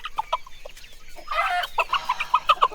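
Chickens on a farm cluck in quick, uneven bursts, several short clucks close together, getting busier and louder toward the end.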